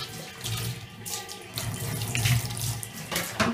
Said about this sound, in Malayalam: വെള്ളം ഒഴിച്ചു കൊടുക്കണം.